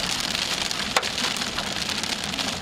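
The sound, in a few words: hail and rain falling during a severe storm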